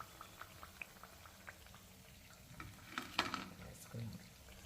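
Bottle gourd gaarelu frying in hot oil, a soft continuous bubbling sizzle with scattered small pops and a brief louder stirring clatter near the end, no talking.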